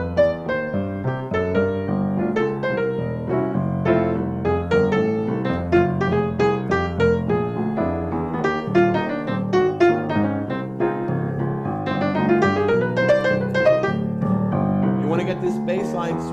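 A walking bass line swings through the chord changes of a complete jazz tune, steady plucked notes moving under piano-like harmony, played continuously and evenly at moderate loudness with no talking.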